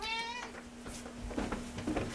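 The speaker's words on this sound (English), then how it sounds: "I don't think you guys know, but I have an extremely well-behaved cat." A house cat gives a clear, close meow at the start, followed by softer, fainter vocal sounds and light movement noise, with no talk.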